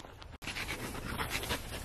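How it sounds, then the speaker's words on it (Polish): A water dog that fishes and pulls up water weeds pants close by, giving quick, rhythmic breathy huffs through the whole stretch with one brief break. "To jest pies wodny, ona łowi ryby."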